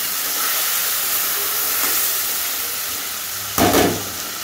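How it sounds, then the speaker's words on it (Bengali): Ginger garlic paste with cumin, chili and coriander powders sautés in a pan, giving a steady loud hiss that is briefly broken by a sharper burst of sizzle near the end. "আদা রসুন পেস্ট, জিরের গুঁড়ো, লঙ্কার গুঁড়ো, ধনের গুঁড়ো, এই ভালো করে আমি মশলাটাকে কষিয়ে নেব।"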